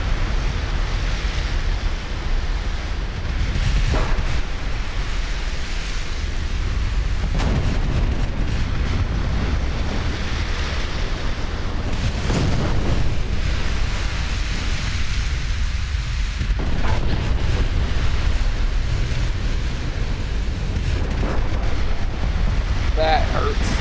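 Naval guns fire in Ultimate Admiral Dreadnoughts, a run of heavy booms and rumbling blasts rolling over a constant low battle din, with a couple of stronger shots standing out; a voice talks over the action.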